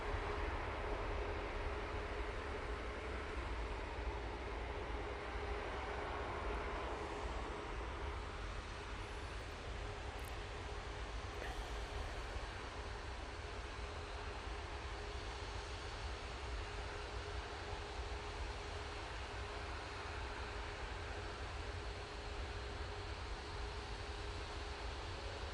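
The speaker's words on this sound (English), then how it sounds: "Ramos is on short final. Let's get that. Is that the Emirates A380?" An Emirates Airbus A380 on short final at Manchester Airport makes a steady broadband jet roar, a continuous wash of engine noise that holds level and loud for the whole stretch with no talk.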